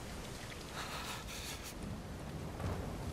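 Rain and thunder in the video game Uncharted 4 form a steady, hissing downpour with a low, distant rumble of thunder underneath, faint and continuous, with no talking.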